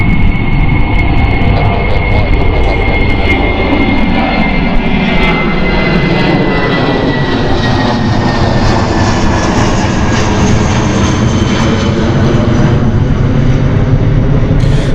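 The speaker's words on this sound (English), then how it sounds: "we've got a quick takeoff of British Airways here" A British Airways airliner takes off at Gatwick Airport in a slight crosswind, its jet engines giving a loud, sustained roar with a falling whine as it climbs away, heard alone without talk.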